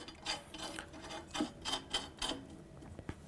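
Old Buick finned brake drum held on with a couple of lug nuts being spun by hand, giving several soft rubbing, rasping whooshes in quick succession, close and quiet.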